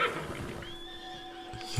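A horse neighs in the video game Red Dead Redemption 2: a single drawn-out whinny with a steady tonal wail that holds for over a second, heard alone at moderate volume.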